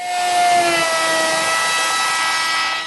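Router cutting a 3/4 inch radius roundover along the edge of a wooden dining tabletop, a loud, steady high-pitched whine held continuously with no talking.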